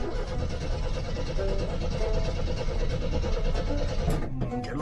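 A 1983 Jeep CJ engine cranks with a steady rough churning, close and loud, then catches near the end and sputters.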